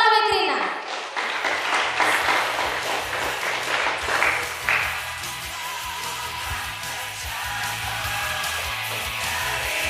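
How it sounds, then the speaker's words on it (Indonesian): Audience clapping rises quickly and holds steady for nearly ten seconds, a dense crowd applause over a low sustained musical backing, with occasional voices mixed in. "Tepuk tangan oleh Krina."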